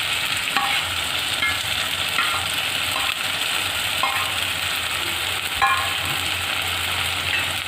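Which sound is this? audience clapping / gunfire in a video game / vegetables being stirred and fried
vegetables being stirred and fried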